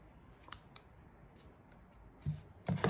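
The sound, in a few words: scissors cutting yarn for a tassel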